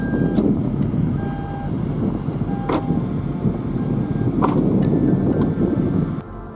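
Power tailgate on a 2020 BMW X5 M Competition closing after a kick under the rear bumper: short warning beeps and a few sharp clicks over a steady outdoor rumble of wind and traffic, ending with a soft latch as the noise drops.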